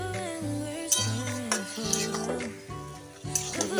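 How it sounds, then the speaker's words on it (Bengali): Bottle gourd stirred in a hot frying pan over high heat, a steady sizzle with scraping and clinking of a utensil against the pan in irregular bursts, close and moderately loud, with music underneath. "আমি লাউ দিয়ে ভালো করে নাড়িয়ে চাড়িয়ে নিয়েছি"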